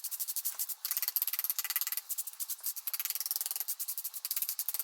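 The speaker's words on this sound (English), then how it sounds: "And then brush, and you'll start to see those edges just kind of smoothing out." A stiff brush scrubs over fresh lime pointing mortar in brickwork, giving a steady run of quick, close, rhythmic scratchy strokes with only brief pauses and no voices.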